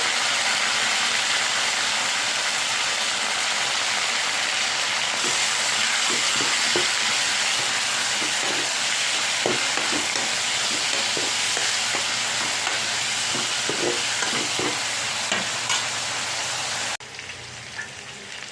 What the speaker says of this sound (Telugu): ఇలా వేగాక చుక్కకూర కూడా వేసేసుకున్నాము. వేసేసుకొని ఉడికించుకున్నాం.